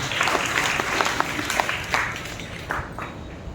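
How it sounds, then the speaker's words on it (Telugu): A church congregation claps in praise during a New Year's Day worship service, a dense, lively burst of many hands applauding together, fairly loud, with the clapping trailing off toward the end. "చప్పట్లు కొట్టి ప్రభువును మహిమపరుస్తాం."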